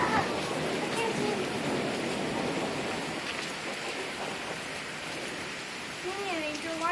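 Rain from a summer thunderstorm falls steadily as a soft, even hiss, heard fairly faint and continuous with a few louder patches and brief voices near the end.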